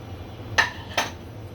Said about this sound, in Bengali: আমি চুলায় একটা কড়াই বসিয়ে দিয়েছি